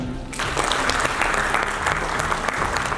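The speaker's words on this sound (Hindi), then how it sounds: "तो गुरुदेव के लिए जोरदार ताली" Loud, dense applause from an audience at a sales leadership training session, starting abruptly and holding steady as a continuous wash of clapping throughout.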